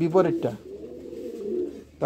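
Caged pigeons give a low, soft, rolling coo in the middle, with a person's voice briefly before and after it.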